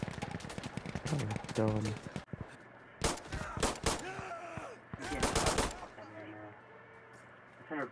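Bursts of gunfire from a teammate in the game Insurgency Sandstorm, several sharp volleys spread through the clip, loud and close, mixed with a player's voice talking over them.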